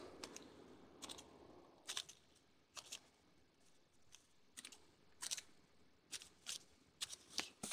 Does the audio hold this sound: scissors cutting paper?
yes